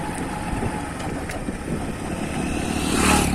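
Motorcycle engine running steadily at close range during a riding lesson, with a continuous low rumble that swells slightly louder toward the end of the stretch.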